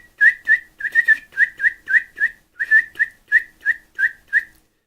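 A person whistles to imitate a bird call, about a dozen short, bright, slightly warbling chirps in quick rhythmic pairs and runs, close and clear with silence between notes.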